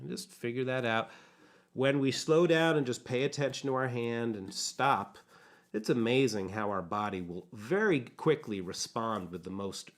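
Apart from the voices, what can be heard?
No everyday noise stands out behind the speech.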